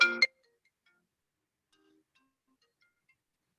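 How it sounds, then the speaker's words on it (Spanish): A telephone rings once, a short loud tonal burst at the very start, followed by near silence. "Perdón, que sonó el teléfono."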